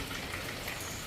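Steady rain falls in a Jaffna village, a dense even patter of drops on surfaces, continuous and close throughout.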